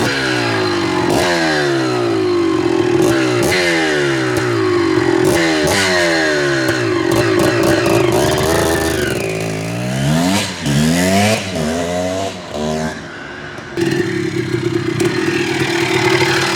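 A 1987 Kawasaki KDX200 two-stroke dirt bike engine revving repeatedly, its pitch sweeping up and down in rapid throttle blips with a raspy, clattering tone, loud and close with no talking.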